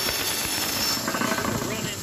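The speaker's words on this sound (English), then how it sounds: "Now, you're going to turn your bandsaw on." A woodworking bandsaw runs with a steady, close mechanical whir and hum, a continuous drone with faint irregular knocking near the end and no clear talk over it.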